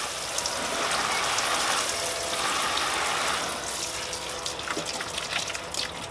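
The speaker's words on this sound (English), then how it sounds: "let's get these watered in. I'm going to do a nice deep watering." A hose pours a steady stream of water over zucchini plants inside a poly tunnel on a UK allotment, a close, continuous splashing gush that softens slightly toward the end.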